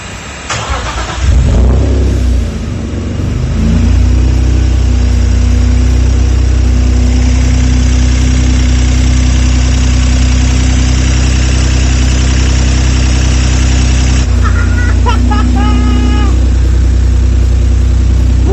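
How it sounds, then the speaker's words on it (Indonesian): A BMW E36 race car engine cranks and fires on its first start, then settles into a loud, steady, close idle with a deep, constant drone and light mechanical clatter. "dan saatnya kita nyalain mesin ini."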